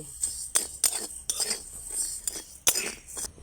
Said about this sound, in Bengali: এবার এটাকে ভালো করে ভেজে নিচ্ছি এইভাবে আরও দু মিনিট নেড়ে নেড়ে এটাকে একটু কালো করে ভেজে নেব